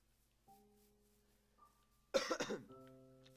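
A single harsh cough bursts out close by over faint steady electronic tones, followed by a soft wheezy tail.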